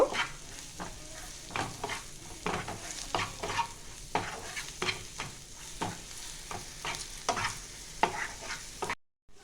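Cumin seeds fry in hot oil, a steady sizzle broken by repeated scraping strokes of a spoon stirring the pan, close and fairly quiet, with no voices.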